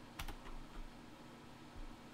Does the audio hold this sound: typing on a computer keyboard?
yes